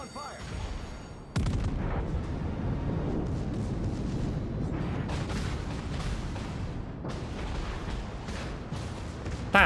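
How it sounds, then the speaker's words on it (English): Heavy naval gun salvos from the battleship Missouri in World of Warships, with a sudden loud boom followed by sustained rumbling blasts and further booming shots, while someone talks throughout. "we're gonna shoot the Charles Martel and ram the Izumo"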